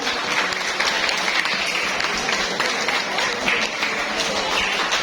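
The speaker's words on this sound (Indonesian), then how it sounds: "Boleh tepuk tangannya dari semua audiens." An audience at a Maulid Nabi celebration claps after quiz team scores are announced, a continuous, even roar of many hands that holds steady from start to finish with faint background voices.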